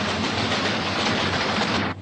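A toy train running on its tracks, giving a dense, steady rumbling rattle close up that holds for about two seconds before dropping away at the end.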